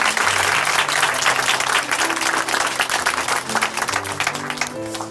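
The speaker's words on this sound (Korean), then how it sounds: "우리 하나님께 영광의 박수 보내드리겠습니다." Applause from a church congregation fills the space, a dense, sustained wash of many hands clapping with faint musical tones underneath, tapering slightly at the end.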